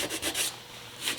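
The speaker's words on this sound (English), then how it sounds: "Sand over the holes," Quick rhythmic rasping strokes of a sanding block rubbing across plywood, several back-and-forth passes, close and fairly quiet.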